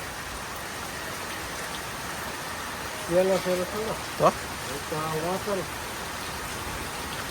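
Heavy rain pours in a constant broadband roar, loud and close, while a voice briefly speaks over it midway.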